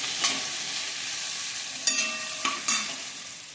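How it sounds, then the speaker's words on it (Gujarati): Okra cooks in a pan, giving off a soft, continuous sizzle close by. A few sharp scrapes of stirring and clinks of a utensil cut in near the end, and there is no talking. "મીઠું એક ચમચી બધું મિક્સ કરી લઈએ પાંચ મિનિટ ધીમા ગેસે ચડવા દઈએ"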